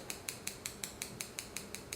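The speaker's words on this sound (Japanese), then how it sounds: "毛束のこのライン、この繊維のラインの通りにハサミが動いてるんですね" Hair-cutting scissors thin out a section of hair, snipping open and shut in a fast, steady rhythm of about ten crisp, evenly spaced clicks, close and clear with no talking.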